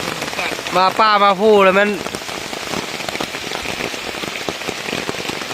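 Steady rain patters in a forest in the evening as a continuous dense hiss. A voice speaks briefly over it near the start.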